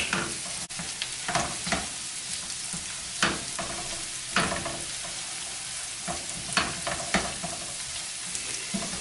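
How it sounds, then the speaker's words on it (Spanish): Sliced garlic sizzles and fries in a pan over moderate heat for a seasoned crab chowder, a steady crackling hiss broken by a few louder scrapes and stirs. "el ajo que está cortado en rodajitas. Vamos a dejar cocinando por unos 30 segundos."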